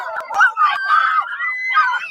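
Several children scream and shriek together in high, sustained, overlapping cries, loud and close, with a couple of sharp clicks near the start.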